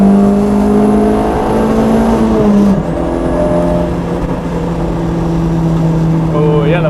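The hybrid turbo 1.8T engine of a 321 bhp VW Golf Mk3 GTI pulls hard on a race track with a loud, steady drone, then drops in pitch briefly and climbs again as the car accelerates. Someone talks over it.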